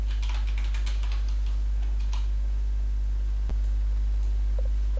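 Quick bursts of keystrokes on a computer keyboard, close and fairly quiet over a steady low hum, tapering into a few scattered clicks.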